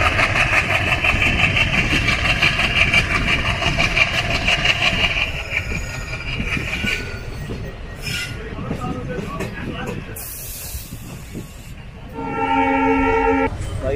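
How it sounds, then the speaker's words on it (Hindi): An ALCO diesel locomotive on an Indian Railways route chugs loudly and close by under a steady rumble of moving rail cars, and a horn sounds near the end. "भाई एल्को की चगिंग सुनो भाई"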